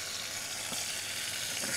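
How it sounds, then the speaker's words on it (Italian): Garlic and tomato fry on an induction hob, a close, continuous, loud sizzle with dense crackling throughout. "l'andiamo proprio a friggere, quasi a friggere sto pomodoro"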